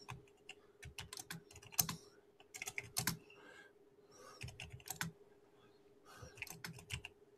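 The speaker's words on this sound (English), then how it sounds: "don't mind me typing" Someone types on a computer keyboard nearby in irregular bursts of quick clicking keystrokes separated by brief pauses, fairly quiet, with a faint steady hum underneath.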